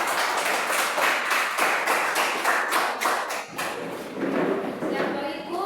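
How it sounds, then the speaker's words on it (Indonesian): A classroom applauds a group after its presentation, with many hands clapping in a steady, fairly loud burst that continues throughout, with voices mixed in. "Silahkan tepuk tangan buat kelompok."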